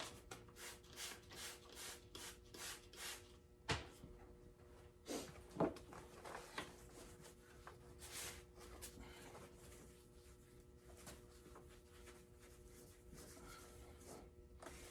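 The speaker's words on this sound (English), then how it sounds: "Get one more rub with the steel wool." Steel wool rubs back and forth across a wooden surface being cleaned before French polishing, a series of close, rhythmic scratchy strokes that are quick at first and then more spaced out.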